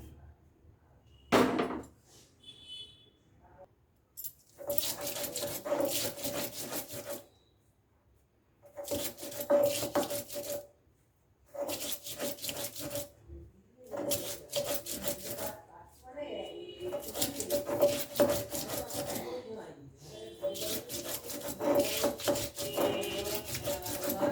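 Chopped onion ground into paste on a grinding stone, heard as repeated bursts of harsh rubbing and grating lasting a few seconds each, separated by short pauses, close and steady in loudness.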